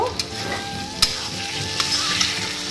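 Jhinge posto, ridge gourd cooked with poppy seed, sizzling steadily in a home pan, a continuous close frying hiss with a few sharp stirring clicks and taps scattered through it.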